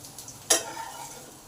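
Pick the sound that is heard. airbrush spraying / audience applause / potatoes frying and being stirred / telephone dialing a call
potatoes frying and being stirred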